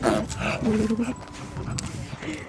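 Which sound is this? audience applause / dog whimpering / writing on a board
dog whimpering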